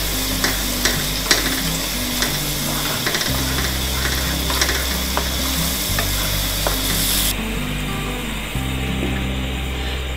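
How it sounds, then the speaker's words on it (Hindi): Masala sizzles and fries steadily in a karahi for mutton karahi, with continuous crackling and occasional stirring scrapes, plus a low mechanical hum shifting in the background. "देखिए हम अच्छे से भुनाई कर रहे हैं। अभी मुझे 10 मिनट हो चुके हैं मसाला भूनते हुए"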